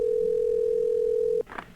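A steady telephone tone purrs on a single pitch for about a second and a half in the You Don't Know Jack game, then cuts off abruptly and gives way to a short, brighter burst of sound.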